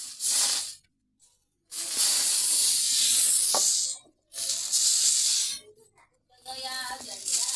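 Watermelon dosa batter spread across a hot griddle hisses and sizzles in loud bursts broken by short silences, while someone talks quietly between them.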